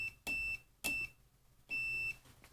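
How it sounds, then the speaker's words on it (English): A home-built keyboard wired to a 1985 Casio FX-451 calculator gives off three shrill electronic beeps, each lasting a fraction of a second, quiet and close with short silences between. "Why is that beeping on both sides?"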